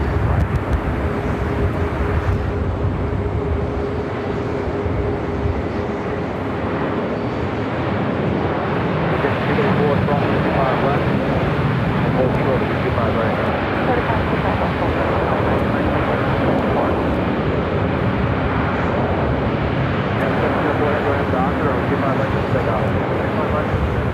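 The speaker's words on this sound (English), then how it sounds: "I got the United Dreamliner up next for takeoff." A United Dreamliner airliner taxiing for takeoff at LAX, its engines a steady, continuous broadband roar throughout, with people talking faintly over it.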